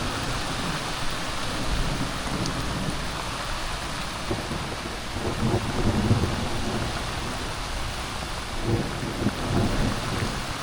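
Steady rain hisses through a 4th of July thunderstorm while low rumbles of thunder swell and fade, with no voices, a broad wash of wet noise with heavier rolls near the middle and end.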